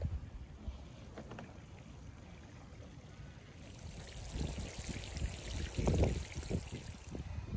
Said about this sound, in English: now I'm going to give it a really good water.